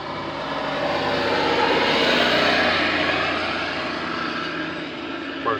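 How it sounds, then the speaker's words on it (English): Trucks driving past on a road, a broad roaring rush that swells louder in the middle and fades away, heavy engine and tire noise with no one speaking. "the sound of the trucks going by"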